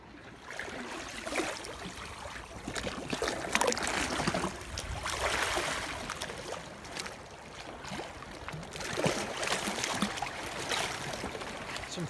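Sea water laps in along the rocky Anglesey shore, a near, uneven wash of small waves swelling and receding in soft surges, with no voices.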